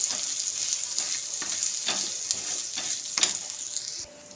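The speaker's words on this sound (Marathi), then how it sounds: "आता हे छान असं मिक्स करून घेऊया" Chaat masala and chopped coriander are stirred in a hot pan, a steady close sizzle broken by repeated scraping strokes of a spoon, ending abruptly.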